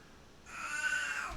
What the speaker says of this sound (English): That's my my cat Roast Beef, who's very excited